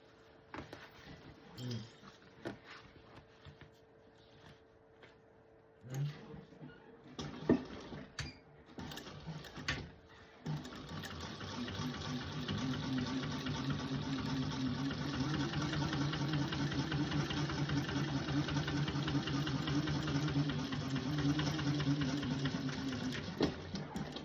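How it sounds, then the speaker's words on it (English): A sewing machine runs steadily for about fourteen seconds, top stitching a seam on a candy bag. Brief handling clatter and short bursts come first, then a continuous close motor hum. "We're going to top stitch."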